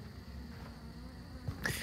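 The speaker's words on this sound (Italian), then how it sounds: "Sono mosche. Secondo me sono moscerini proprio" Flies buzz in the survival video game Grounded, a quiet, steady insect drone in the background with a brief brighter rustle near the end.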